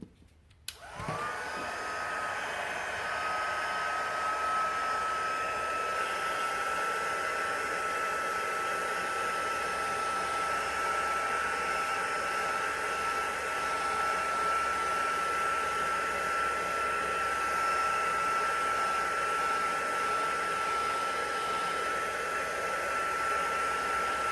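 A heat gun warming craft stamping foam: the motor clicks on and then blows a steady whooshing roar with a faint whine, running alone and unbroken.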